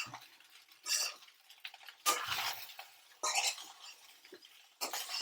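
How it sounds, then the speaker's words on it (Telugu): A spoon or spatula stirs egg fried rice around a hot pan in short, scraping bursts separated by brief pauses, with a faint sizzle and close, fairly quiet clatter against the metal. "కొంచెము అన్నంకి ఫ్లేవర్ పట్టేదాకా మనం ఇట్లా కలుపుతున్నాం"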